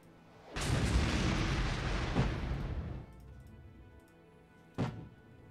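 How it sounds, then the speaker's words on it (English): Gunfire and artillery in the Armored Brigade video game: a long, heavy rumbling barrage lasting a couple of seconds, then a single sharp loud blast after a short pause, close and with no talk. "Alright, we're taking fire."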